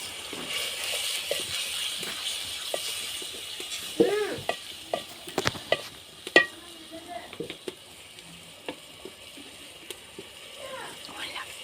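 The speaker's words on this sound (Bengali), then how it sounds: "ভালো করে নেড়ে চেড়ে দিচ্ছি তারপর এখন মরিচের গুঁড়া দিচ্ছি দুই চামচ" Fish curry masala with chili powder is stirred in a pot on a clay stove, making a soft sizzle with irregular scraping clinks and splattery bursts. Voices murmur faintly underneath.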